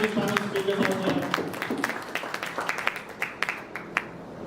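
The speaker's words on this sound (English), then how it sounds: "let's give a big round of applause for the panel speakers out there." An audience claps in scattered applause that thins out into a few separate claps, with a voice speaking over the start.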